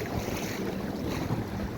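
Unusually rough waves on normally calm water, a continuous rushing wash mixed with heavy wind buffeting on the microphone, brief and unbroken.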